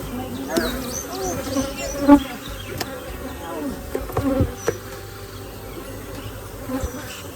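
Honeybees buzzing steadily around an open hive being inspected, a dense droning hum with a few louder passes of bees close by, and brief low voices in the background.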